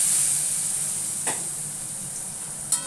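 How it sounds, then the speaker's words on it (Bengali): Potato pieces fry in hot oil with bay leaves and cumin, giving a steady, soft sizzle with two brief scraping stirs. "আলুগুলো একটু লাল করে ভাজা করে"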